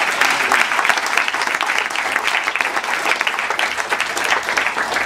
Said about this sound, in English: I feel she definitely needs a loud applause.